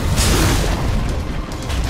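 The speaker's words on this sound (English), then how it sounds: "Dire's middle tower has fallen." A Dota 2 tower collapsing: a loud, sustained rumbling boom with crumbling debris noise, dense low-end roar holding steady throughout with no voices.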